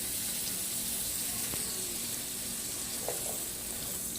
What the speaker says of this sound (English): So at this point my oil is heated. I will just start by adding the onions.